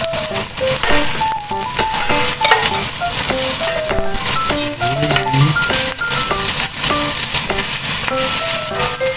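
White onion stir-frying in a pan for golden bihon noodles, a loud steady sizzle with clinking stirring under background music, close up with no talking.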